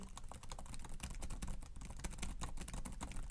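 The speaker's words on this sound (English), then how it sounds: "It's a quiet keyboard, doesn't actually click so much as the MacBook." Rapid, soft keystrokes on a quiet Xiaomi Mi Air 13 laptop keyboard tap out a continuous typing rhythm, muted and close, with no talking.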